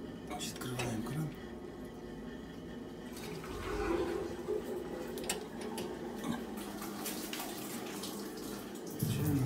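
Water runs steadily from a kettle tap during transfer of homebrew, with some clinking of metal, while a person talks intermittently nearby.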